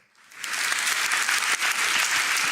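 An audience at a live event breaks into applause that swells quickly from silence into sustained, dense clapping for the rest of the moment.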